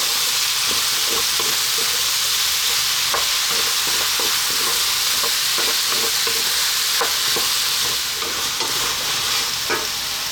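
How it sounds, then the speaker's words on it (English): Ground beef fries hard in a pan for Indian aloo keema, a loud, constant sizzle broken by frequent scraping and tapping as the meat is stirred, with no voices. "we're going to add in our ground beef or minced beef, whatever you call that. And we're going to go now for about 4 minutes"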